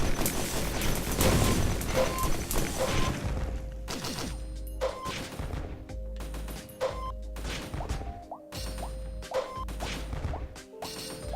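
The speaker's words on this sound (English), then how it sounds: "Every time I open a thing, which is either the chest that I pay for or the little free chests, I'll shoot out a bunch of fireworks." Bursts of fireworks go off repeatedly as chests are opened in the Risk of Rain video game, a dense run of crackling pops and booms over game music, loud and busy throughout.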